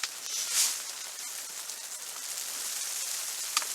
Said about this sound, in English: Sit here and listen to the pitter pat of the half rain snow